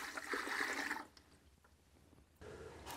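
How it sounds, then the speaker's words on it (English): Water poured into a Bluetti MultiCooler ice maker's reservoir, a close, steady splashing gush for about a second, then quiet trickling and a short renewed pour at the end. "You just pour the water right in."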